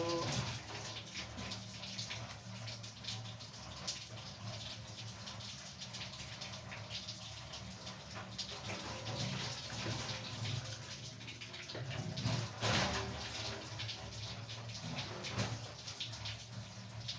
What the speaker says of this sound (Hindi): मुँह धो रहे हैं।